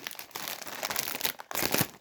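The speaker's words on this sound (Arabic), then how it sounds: "نفتح الكيس ده ونقول بسم الله الرحمن الرحيم" A snack bag of ketchup-flavored Lulu chips is crinkled and pulled open, giving close, crackling rustles in uneven bursts with a short pause near the end.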